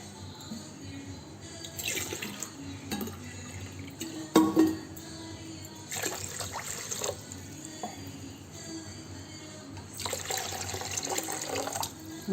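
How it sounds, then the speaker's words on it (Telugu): Water poured from a glass onto about three-quarters of a kilo of sugar to make syrup for gulab jamun, three glasses of water for two of sugar; splashing pours come in a few bursts separated by quieter handling noises. "3 గ్లాసు నీళ్ళు పోస్తామండి."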